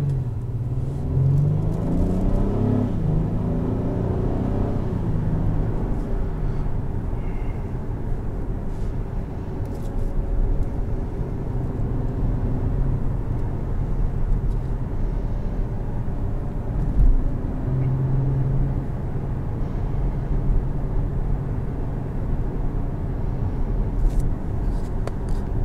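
A 2022 Acura MDX Technology on the road, its engine and tyre rumble a steady, close, continuous drone from inside the cabin, with no talking.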